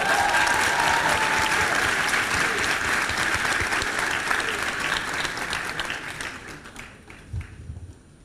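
A school assembly audience applauds loudly and steadily, then the clapping thins out and fades to a few scattered claps at the end.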